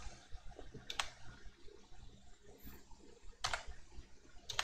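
Computer keyboard arrow keys tapped while playing an old PC game, a few quiet, sharp clicks spaced about a second apart over a faint low background hum.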